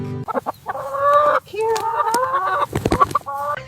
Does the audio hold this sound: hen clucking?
yes